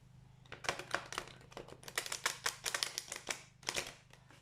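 Large oracle cards are shuffled by hand in a quick run of crisp riffling bursts and flicks, close and fairly quiet, with no talk.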